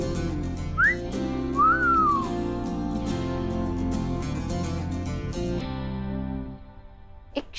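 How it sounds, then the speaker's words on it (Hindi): A man gives short wolf whistles at a woman: a quick rising note, then a longer rising and falling one, heard over a steady music score in a TV drama scene. "शादीशुदा लड़की को देखकर सीटी बजाते हुए तुम्हें शर्म नहीं आती?"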